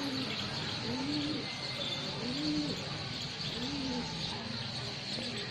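Madrasi pigeons give soft, repeated cooing calls about once a second near a loft in the morning. Faint chirps and a steady background hiss sit under the calls.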